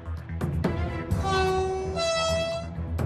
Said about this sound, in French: Le train ballast est sur le point d'arriver à Ville-Ognon.